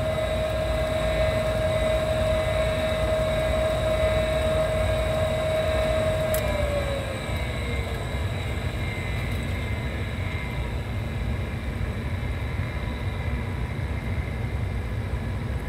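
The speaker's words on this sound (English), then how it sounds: "Inducer's off, blower's still going." A home furnace blower runs with a loud, steady whooshing hum. A higher whine in the mix fades away about midway while the broad airflow rumble carries on.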